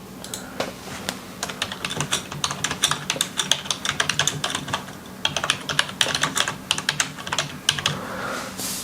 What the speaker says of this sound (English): there's not much lag in the typing